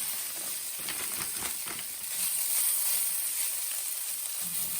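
Shredded potato hash browns fry in a pan with a steady, close sizzle and hiss, plus a few brief crackles and a faint low rumble underneath.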